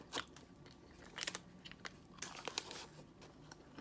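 Crisp bites into crunchy deep-fried red sausage, several sharp crunches followed by chewing, close and fairly quiet, with no speech.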